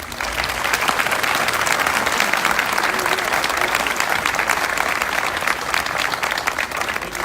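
A crowd at the grand opening and ribbon cutting of a Stater Bros. supermarket in Pasadena claps loudly and continuously, a thick, even wash of applause lasting several seconds.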